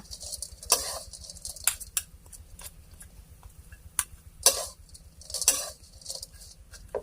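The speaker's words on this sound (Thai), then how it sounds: "ผัดอย่างนี้ค่ะ" Oyster mushrooms are stir-fried in a pan after the heat is switched off, with sharp scraping and clinking strokes of a spatula against the pan at irregular intervals, close and distinct against a quiet background.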